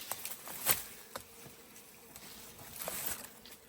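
Honey bees buzz faintly during a honey harvest on a farm, with a few louder passes close by against soft background noise.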